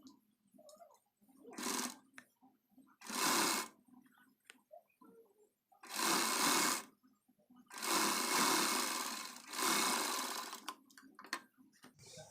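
Sewing machine stitching a border onto a long-sleeved blouse, running in several short bursts of rapid whirring with quiet pauses and faint handling sounds between them.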